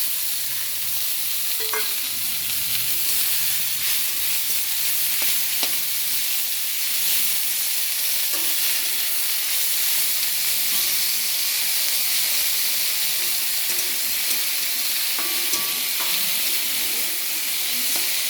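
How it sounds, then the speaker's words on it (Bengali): Spinach frying in a pan with ginger and turmeric, a steady close hissing sizzle throughout, with occasional faint clinks of a stirring utensil and no talking. "পালং শাকটা ভাজা ভাজা হয়ে আসবে, একটু ভাজতে হবে, নাহলে ভালো লাগবে না।"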